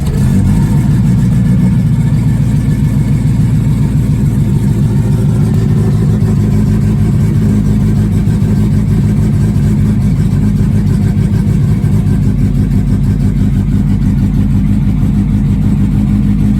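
A Classic Mini engine with a newly installed Pertronix ignition runs close and loud, holding a steady, unbroken rumble with slight shifts in revs and no talking.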